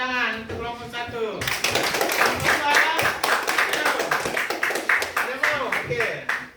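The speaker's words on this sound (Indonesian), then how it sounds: "tepuk tangan untuk kelompok 1." Schoolchildren in a combined-grade classroom clap together for a group, a burst of many sharp hand claps following a short spoken line, continuing steadily with some rhythmic unison.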